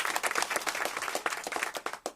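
Live concert audience clapping at a celebration of the human voice on a radio station stage, a steady patter of many hands with no voices over it.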